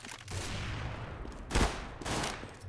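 Gunfire from Counter-Strike: Global Offensive, a few loud broadband bursts from a sniper-rifle mission: a sustained volley at the start, a sharp close shot near the middle, then another burst, with no talking.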